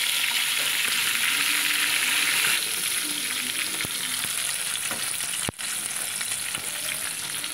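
Pieces of rohu fish frying in hot oil give a strong, continuous close sizzle, with a few light clicks of a utensil stirring through it and no voices.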